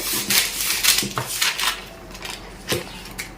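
Scissors snip through a paper pattern for a 32-size princess-cut blouse in a series of short, crisp cuts, close and fairly loud, with no talking.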